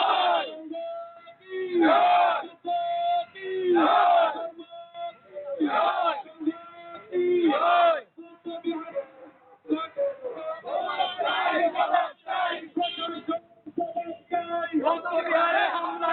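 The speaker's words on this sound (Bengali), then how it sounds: "আমরা এখানে একটু স্লোগান দিতে পারি।" A crowd at a human-chain protest over an attack on a Buddhist monastery chants slogans in loud, rhythmic call-and-response bursts, a leader's voice alternating with massed shouted replies, sounding slightly thin and band-limited.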